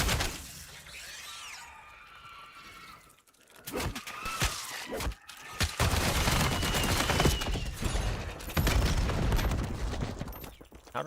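Gunfire strikes the player in a shooter video game during a convoy fight, with dense rapid bursts and crackling impacts that grow louder and more sustained over the second half.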